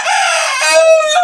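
A rooster crows once, a loud, close, drawn-out cry that rises and then holds a strained note to the end.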